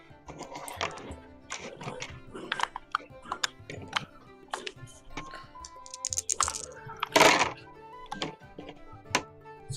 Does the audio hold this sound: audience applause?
no